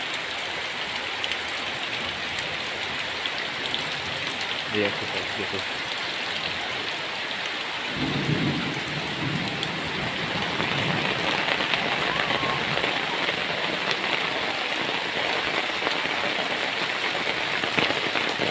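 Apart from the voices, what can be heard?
heavy rain pouring down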